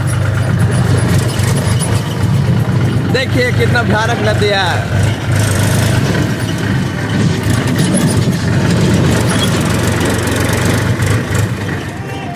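A tractor engine rumbles steadily at a river crossing on a rough track, a continuous low drone heard close by while someone talks over it.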